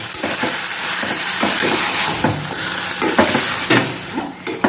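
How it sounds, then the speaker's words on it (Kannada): Mutton sizzles loudly in hot oil while a spoon stirs it, with a continuous frying hiss broken by repeated scraping strokes against the pan. "ಈಗ ಮಟನ್ ಹಾಕಿದ ಮೇಲೆ ಒಳ್ಳೆ ಉರಿಯಿದೆ ಹೀಗೆ ಹೀಗೆ ಒಳ್ಳೆ ಎಣ್ಣೆಯಲ್ಲಿ ಸ್ವಲ್ಪ ಉರಿಬೇಕು"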